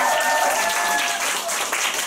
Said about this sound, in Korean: 진행해주신 저희 정지현 사장님께 다시 한번 박수 부탁드리겠습니다